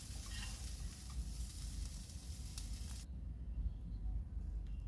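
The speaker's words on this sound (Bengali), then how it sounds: "এবার সয়াবিনটাকে আমি কড়াই থেকে উঠিয়ে নিচ্ছি" Fried soybean chunks being stirred and lifted out of a wok of hot oil, giving a steady sizzle with scraping and stirring noises; the bright frying hiss drops away partway through.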